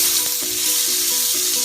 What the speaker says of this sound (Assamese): পিঁয়াজটো ভাজিলোঁ, এনেকুৱা হ'ল, ভাজা হৈ গ'ল পিঁয়াজ